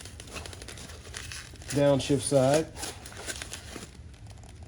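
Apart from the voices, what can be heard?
opening crinkly packaging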